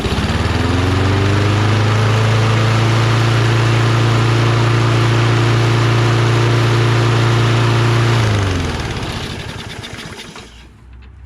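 A Toro Recycler lawn mower with a Kohler XT675 engine runs loud and close after a carburetor rebuild, a steady droning hum that holds for about eight seconds, then falls away as the engine shuts down.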